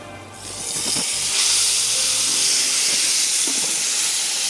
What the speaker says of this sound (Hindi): और दूसरा पीस हल्का सा फ्राई कर लेते हैं